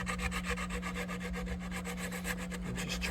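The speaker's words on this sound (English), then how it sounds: "Ebony works great for sanding blocks, and this is just a chunk of sanding belt from a belt sander." A homemade ebony sanding block wrapped with a strip of sanding belt rubs back and forth over wood on a 1960s SG guitar headstock repair, a close, steady rhythmic scratching with regular strokes.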